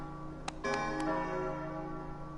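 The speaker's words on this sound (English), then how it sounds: "The bell!" A bell rings in Kingdom Hearts Chain of Memories, a few bright metallic strikes followed by a sustained, resonant ringing tone that hangs over soft game music.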